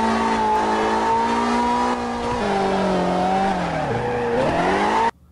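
A car engine in CarX Drift Racing on mobile iOS, with a Nissan S13 drifting around a housing complex, held at steady high revs with a loud, buzzy harmonic whine that dips and climbs through the slide before cutting off abruptly.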